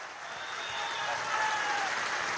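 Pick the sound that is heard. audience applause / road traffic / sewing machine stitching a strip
audience applause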